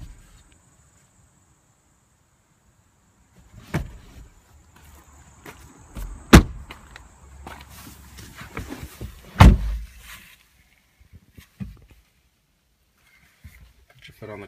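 Rear seats and a headrest being folded inside a 2016 Ford Fiesta ST, heard as a few sharp mechanical clunks and clicks amid quiet cabin sound, with speech in between.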